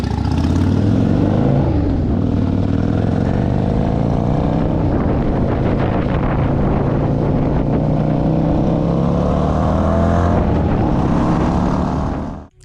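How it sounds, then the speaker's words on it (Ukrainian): A Kawasaki Vulcan 400 motorcycle riding on the road in Kyiv: a loud, steady engine drone with wind buffeting, the pitch creeping upward as it travels, before cutting off abruptly at the end. "І їду я прямо зараз на Кавасакі Вулкан 400."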